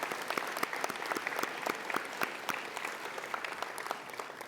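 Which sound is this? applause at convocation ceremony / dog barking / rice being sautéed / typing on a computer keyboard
applause at convocation ceremony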